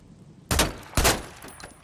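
Gunfire in the Days Gone video game: two loud, sharp shots about half a second apart, each trailing off in a short echoing decay, with a faint clatter afterward and no talking.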